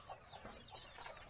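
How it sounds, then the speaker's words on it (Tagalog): Ducks being fed on a farm, with faint, distant quacking and clucking calls coming in scattered bursts. "Papakain ng pato."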